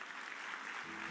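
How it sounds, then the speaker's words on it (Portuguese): A church congregation applauds the Lord during a service, a faint wash of clapping from the room, steady and distant without distinct individual claps. "você dar um aplauso ao Senhor nesse lugar"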